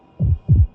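Heartbeat sound effect with two deep, muffled thumps in a quick lub-dub pattern, loud and close against near silence.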